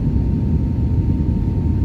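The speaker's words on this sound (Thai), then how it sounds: "ตอนนี้อยู่บนเครื่องบินนะคะ" Cabin noise aboard an airliner flying to London, a loud, constant low engine rumble and air roar that holds steady throughout, with no talking.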